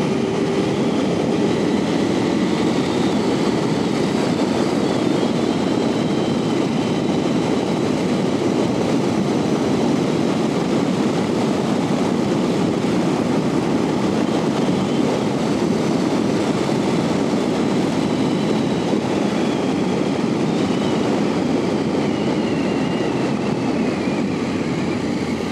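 A 2025 KTM 890 SMT twin-cylinder motorcycle riding on a circuit, a steady, loud engine drone with rushing wind that holds without a break throughout, with no talk.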